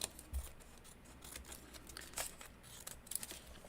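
Scissors snip and trim the edge of a paper conversation card in a few quiet, crisp cuts, with a faint rustle of paper between them.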